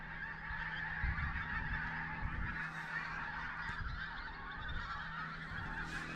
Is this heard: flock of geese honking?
yes